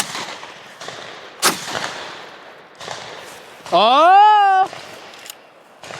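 An SDS Imports semi-automatic shotgun fired without its handguard gives sharp, loud blasts spaced a second or more apart, each with a decaying echo, and a man calls out between the shots.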